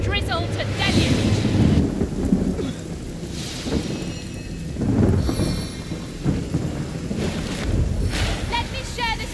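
Rain and thunderstorm spell cast in the Divinity: Original Sin Enhanced Edition role-playing game: steady heavy rain with rolling thunder rumbles swelling and fading over the whole stretch, mixed with game sound effects.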